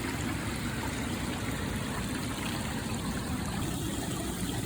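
Cold creek water flowing over rocks, a steady, broad rushing and burbling close by, continuous without pauses or voices.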